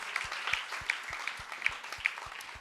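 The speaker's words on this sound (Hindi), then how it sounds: "ताली बजा, अपने लिए ताली बजा" A church congregation at a Sunday service in Dungarpur claps together in a steady rhythm, about a dozen evenly spaced claps at moderate loudness with faint voices underneath.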